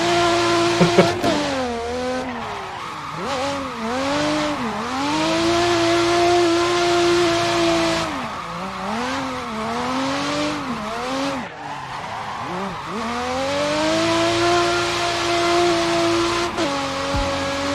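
A race car in a racing video game revs through its gears, the engine note climbing and dropping repeatedly over almost twenty seconds amid tire squeal and skidding, loud and continuous.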